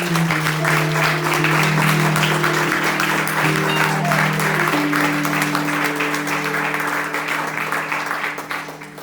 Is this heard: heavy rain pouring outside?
no